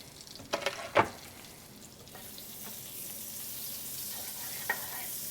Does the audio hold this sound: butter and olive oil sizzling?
yes